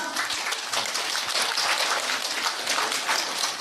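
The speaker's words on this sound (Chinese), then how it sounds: "有人哭，有人笑，有人拍手了" An audience at a gathering of a teacher and disciples claps, producing dense, continuous applause that stays fairly loud for a few seconds with no talk over it.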